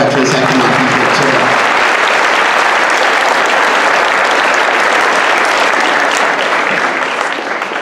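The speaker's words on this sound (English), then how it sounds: "Let's have a round of applause for all our veterans that cannot be here today." Sustained audience applause fills a Veterans Day ceremony at a school, steady and dense for several seconds before tapering slightly at the end, with brief voices at the start.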